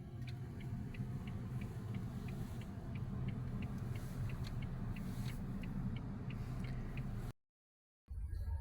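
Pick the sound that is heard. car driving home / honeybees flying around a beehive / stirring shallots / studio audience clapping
car driving home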